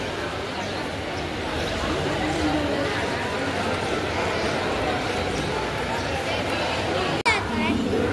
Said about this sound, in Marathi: मंडळी आम्ही आलो रत्नागिरी स्टेशनला.